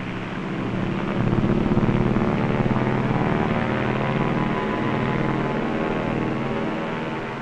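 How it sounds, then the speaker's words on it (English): A Consolidated seaplane's engines drone steadily in flight, a loud, continuous propeller roar holding even throughout with no other sounds. "and the plane speeds on its way to port"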